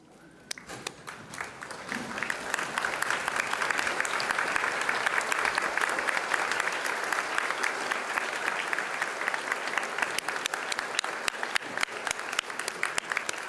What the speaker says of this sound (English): I think she deserves a standing ovation.